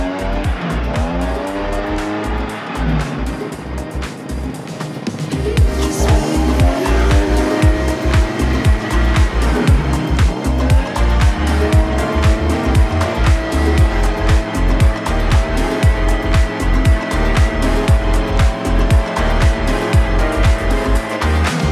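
A Badger backpack leaf blower runs loud and continuous nearby, its engine roar rising after a few seconds and holding steady with rough, fluttering texture.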